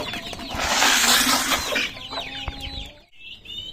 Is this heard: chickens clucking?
yes